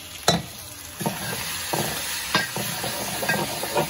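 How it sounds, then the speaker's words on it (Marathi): Prawns fry with kokum in a pan, giving a steady close sizzle broken by several sharp scrapes and clanks as a utensil stirs them, with no talking. "हे पण छान मस्त फ्राय झालं जाईल"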